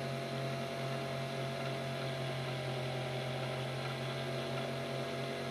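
Small car window motor spinning steadily at high speed, a continuous whirring hum with a strong steady tone, running alone and unbroken throughout.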